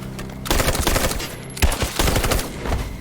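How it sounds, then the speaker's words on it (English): Rapid gunfire rattles through a shootout in the video game Detroit: Become Human, dense bursts of shots in quick succession with a brief lull in the middle, loud and close. "There's a lot of gunfire."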